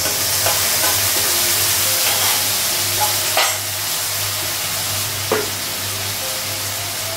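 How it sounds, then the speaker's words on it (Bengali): Spice paste of ginger, garlic, turmeric, cumin and coriander fries with potato and onion in a pan over a gas flame, a loud continuous sizzle with a few scraping stirs and a steady low hum beneath. "মশলাটা একটু কষে নিল"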